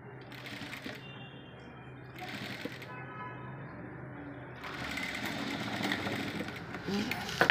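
Electric sewing machine stitching a pleat on a blouse, a fast steady whirring run that stops and restarts in short bursts, then runs longer and louder near the end.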